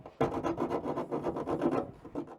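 Half round file rasping around the edge of a freshly cut hole in a van roof, a steady run of close scraping strokes with no talk.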